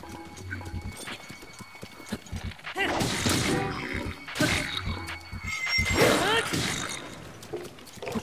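Horse hooves clip-clop in a steady galloping rhythm in the video game Breath of the Wild, loud and close, layered with heavy clattering game effects.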